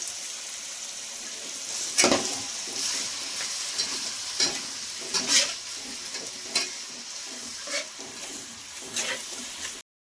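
Ginger-garlic masala frying for chicken leg piece biryani as yogurt goes in, a close, continuous sizzle broken by several sharp spatula scrapes and stirring clatters, with no voices.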